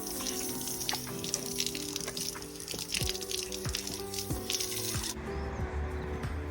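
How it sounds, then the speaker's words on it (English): Water gushes steadily from a garden hose as a horse drinks from it, a constant splashing trickle at close range with faint dripping and no talk. "She likes drinking out the hose."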